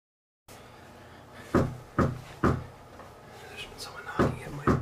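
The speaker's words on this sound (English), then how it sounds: "There's been someone knocking at my front door for the last 10 minutes or so and they haven't stopped knocking." Someone knocks on a front door at night: a series of separate hollow thuds, spaced irregularly, then fainter knocks, close and fairly loud against a quiet room.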